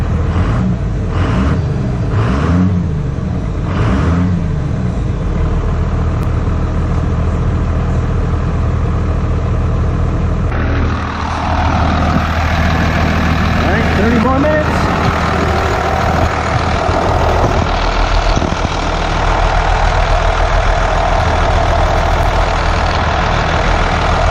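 A 12 valve Cummins diesel in a truck idles steadily, a loud close low rumble with a knocking clatter, shifting to a busier revving tone about halfway through; no talk.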